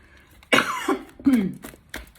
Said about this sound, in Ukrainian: Вибачте, але я іноді ще трошечки кашляю.